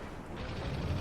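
Distant video game gunfire and explosive rumble from shooting at a satellite in a T-14 Leviathan mission, a short dense burst of low booming blasts blended into a continuous roar.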